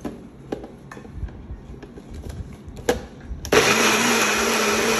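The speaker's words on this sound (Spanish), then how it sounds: "Esto lo vamos a tapar y lo vamos a licuar por un momento." A kitchen blender whirs loudly and steadily as it purées a chipotle sauce, switching on abruptly after a few seconds of quiet clatter and running continuously to the end.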